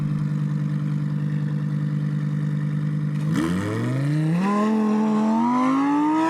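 A Rolls-Royce Wraith Black Badge and a Lamborghini idle side by side on a wet test track, then launch together, their engines rising sharply in pitch as they accelerate hard and roar away loudly.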